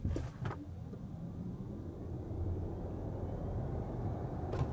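An Audi Q4 e-tron all-wheel-drive electric SUV with 300 horsepower accelerates hard from a standstill to about 80 km/h, giving a steady low road and motor rumble that holds for several seconds, with brief higher whooshes near the start and end.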